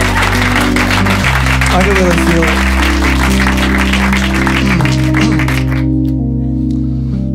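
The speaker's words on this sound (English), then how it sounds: "Now give yourselves a round of applause." A comedy club crowd at a live stand-up special applauds under a sustained musical chord. The clapping is dense and steady and fades out near the end, while someone speaks over it.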